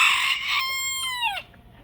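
A hen house full of hens with a single rooster gives off a loud, close crow that rises and trails away, with clucking around it and no talk.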